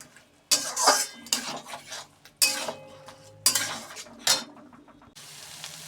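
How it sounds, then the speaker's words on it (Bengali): Soybean chunks being stirred and fried with spice masala, loud bursts of sizzling and scraping as a spoon works the pan in repeated strokes, with quieter pauses between, close and without talk. "এই মুহূর্তে মশলাটাকে সোয়াবিনের সাথে নেড়ে কষিয়ে নিই।"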